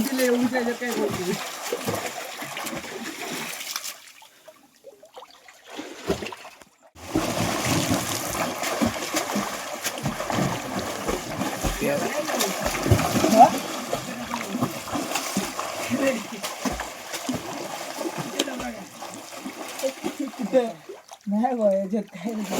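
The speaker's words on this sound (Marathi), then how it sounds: "पाणी हलवायला लागतं" Pond water sloshing and splashing as it is stirred by people wading chest-deep while fishing in a drained pond, steady splashes throughout with people talking over them and a brief lull early on.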